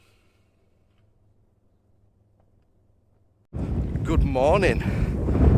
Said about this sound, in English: Apologise about the wind, it might be a bit windy.